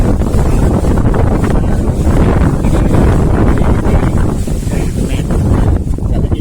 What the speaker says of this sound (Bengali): দেখুন, প্রচুর পরিমাণে বাতাস রয়েছে।